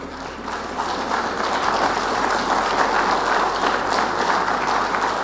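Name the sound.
audience applause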